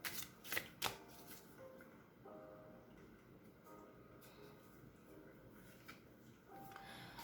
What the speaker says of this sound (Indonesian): Di sini saya akan kocok terlebih dahulu kartunya.